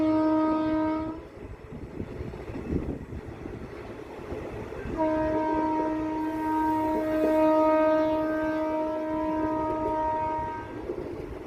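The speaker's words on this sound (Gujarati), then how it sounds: "ટ્રેન કર્વ સાથે હાઈરાઇઝ ઓએચઈ સેક્શનમાં એન્ટર થઈ રહી છે" A WAG-7 electric locomotive with freight wagons approaches Adipur Junction, sounding its horn in two long blasts over the steady rumble of the rolling train.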